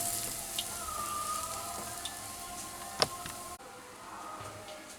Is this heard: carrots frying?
yes